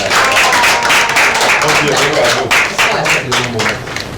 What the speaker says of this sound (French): Est-ce qu'on peut applaudir pour maman, les enfants?